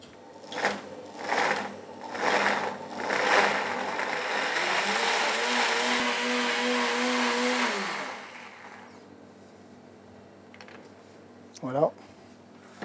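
A kitchen blender whirs steadily for several seconds emulsifying a coconut milk and cucumber sauce thickened with xanthan, following a few short pulses, then stops; a voice speaks briefly afterward.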